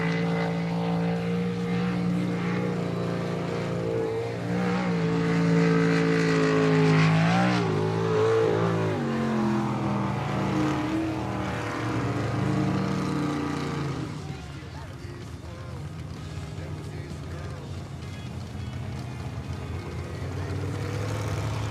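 A jet sprint race boat engine roars and revs steadily at close range as it races down a narrow, shallow water channel about 10 feet wide and 2 feet deep during pro qualifying runs in Yakima, Washington, with a commentator talking over it.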